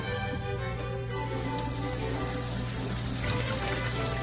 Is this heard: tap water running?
yes